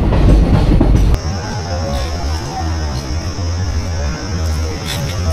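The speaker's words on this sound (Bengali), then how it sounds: "ট্রেন কিন্তু রাইট টাইমেই যাচ্ছে" Teesta Torsa Express passenger train (13141) running on the tracks, heard as a loud, steady rolling rumble with rail clatter close by. A heavier burst opens the first second, and no one speaks.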